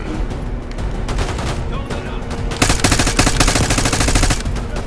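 Gunfire in the Call of Duty Black Ops 6 campaign: a steady stream of rapid shots, close and loud, with the fire growing denser and heavier partway through.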